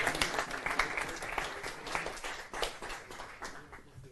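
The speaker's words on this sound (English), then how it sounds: "Hans, so an applaud to Hans, shouldn't we give it?" Audience applause at a company capital markets day presentation, dense steady clapping from a crowd that carries on for about four seconds without talk.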